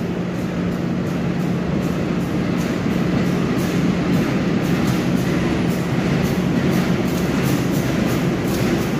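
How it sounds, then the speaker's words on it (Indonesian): A train hauled by diesel locomotive CC201 rumbles past steadily with a low engine drone and a rhythmic clatter of wheels on rails, loud and close throughout. "Bertemu dengan kereta api Doho tujuan akhir Blitar menggunakan lokomotif CC2017-14"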